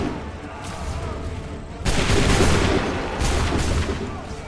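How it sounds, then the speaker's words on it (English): A musket volley from a line of soldiers in Assassin's Creed 3 Remastered crashes in as a loud, dense burst of overlapping shots midway, following a rumbling battlefield din. "Open fire."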